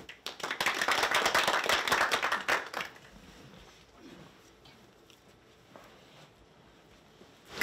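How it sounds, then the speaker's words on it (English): Audience applause for a speaker at an author series event, dense clapping for a few seconds that stops abruptly, leaving quiet room tone with faint rustling. "Please give a round of applause to Dr. Johnson."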